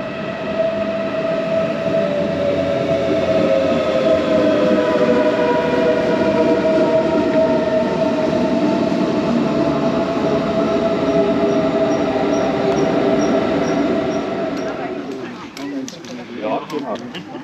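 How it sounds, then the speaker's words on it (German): A Munich S-Bahn commuter train rolls into a station, its steady rumble and high wheel squeal sustained close by before fading and easing as it slows to a stop. "Ich filme mal, wie die S-Bahn hier einfährt."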